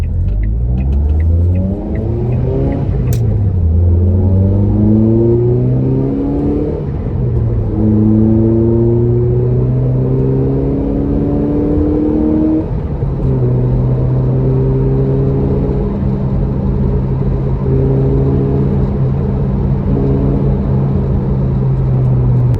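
Ford Fiesta ST150 engine revving through a couple of short acceleration pulls with a torque mount roll restrictor fitted, loud in-cabin engine note rising and falling in pitch, with steady road rumble underneath and no talk.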